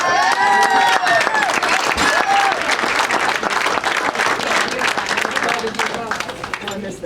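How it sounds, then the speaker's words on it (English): A hall of fame ceremony audience at a college breaks into sustained applause, dense clapping filling the room with some cheering and voices mixed in, fading toward the end. "I think we need a round of applause."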